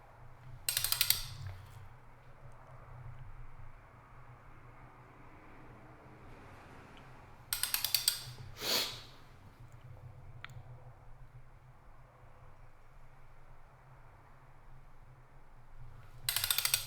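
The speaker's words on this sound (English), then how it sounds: "I got my torque wrench right now. Okay, all right, onto the crank bolt." A torque wrench ratchets on the crank bolt of a Nissan RB26 engine in an R32 Skyline. Three short, close bursts of clicking are spread over a quiet stretch, with a faint low hum underneath.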